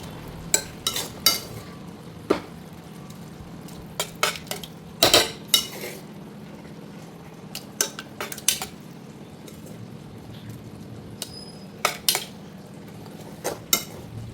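A metal spoon clinks and scrapes against a pot as cooked talinum leaves are moved into dal, with sharp irregular clanks spread throughout over a low steady background.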